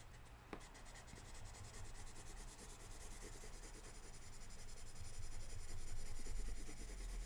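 Washi tape being rubbed down onto paper, a soft continuous scraping friction that runs steadily and grows slightly louder toward the end, close up with no talk.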